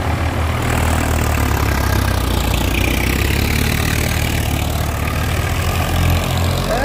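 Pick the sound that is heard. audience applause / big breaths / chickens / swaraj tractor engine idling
swaraj tractor engine idling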